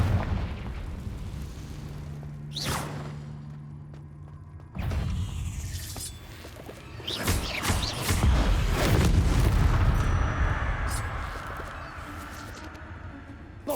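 Blasting Confringo spell explosions in the video game Hogwarts Legacy: several loud booming bursts, one around the three-second mark and a heavier rumbling cluster midway, over continuous game ambience.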